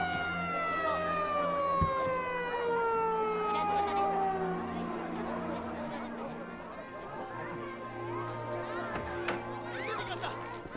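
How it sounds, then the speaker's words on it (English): Police sirens wail in the video game Yakuza 5, several overlapping tones sweeping slowly downward over a steady, busy background, heard throughout at a moderate level with faint crowd chatter beneath. "Why are there sirens?"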